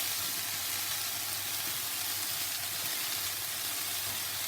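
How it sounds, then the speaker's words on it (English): Vegetables fry in a large frying pan with a dense, steady close sizzle and constant hiss, no talking. "I've got my biggest frying pan, and I'm just going to fry the veg for about 5 minutes"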